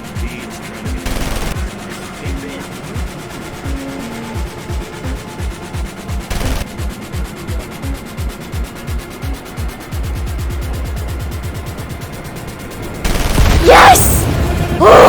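Rapid automatic gunfire in a VRChat shooting game, repeated bursts of regular close shots in a steady rhythm with a heavier continuous volley and louder blasts near the end, voices faintly in the mix.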